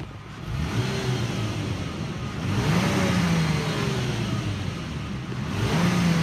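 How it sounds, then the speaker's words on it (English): A 2008 Toyota Tacoma V6 engine runs and revs, its pitch rising and falling through a few throttle blips over a steady idle, heard close with no talking. "Let's go ahead and listen to the engine."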